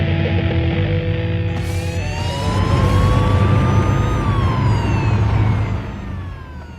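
An ambulance siren wails with rising and falling tones over steady road and engine rumble, loud and continuous before fading toward the end.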